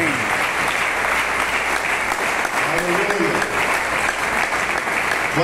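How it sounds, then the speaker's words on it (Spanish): Church congregation clapping during a Spanish-language evangelical service, dense sustained applause filling the whole stretch, close and loud, with faint voices mixed in. "Denle mejor de los aplausos al Señor"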